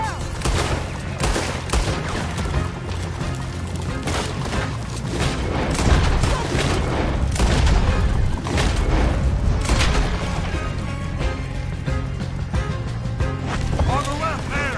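A Western shootout in Red Dead Redemption 2: scattered gunshots crack over galloping horse hooves and rumbling action, with voices talking and shouting throughout.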